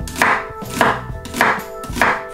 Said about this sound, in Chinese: 取一半切成蒜末